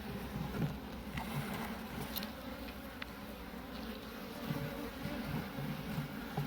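Honey bees from a rescued colony hum steadily around an opened hive during an inspection, a soft, continuous buzz close by with no talking over it.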